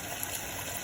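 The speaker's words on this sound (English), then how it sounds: "You make the water running nice, again, wash it." Steady gush of tap water running while pig tails are washed for barbecue frying, a continuous close hiss with no breaks and no talk.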